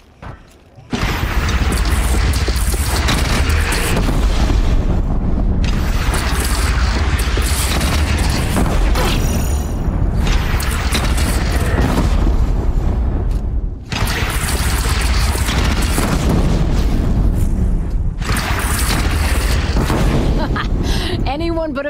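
Heavy cannon fire and explosions in Horizon Zero Dawn, loud booming blasts rolling into continuous rumbling barrages with brief gaps between volleys, voices talking underneath.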